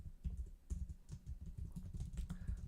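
Quiet, close clatter of fingers typing on a computer keyboard, an uneven run of soft key taps with brief pauses between bursts.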